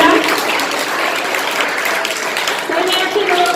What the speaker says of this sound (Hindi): आप सभी को 2 शब्द कहने के लिए तालियों से स्वागत कीजिए इनका